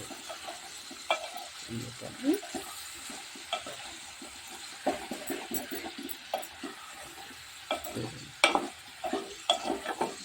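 Ivy gourd masala curry being stirred in a pan, soft scraping strokes and occasional knocks over a faint sizzle, moderately quiet and close.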